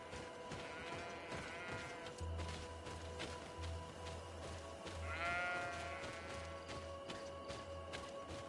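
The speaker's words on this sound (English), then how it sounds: "There are sheep up there." Sheep bleat several times in the video game Greedfall, with two clear wavering calls standing out over a steady ambient game soundscape and a low droning background.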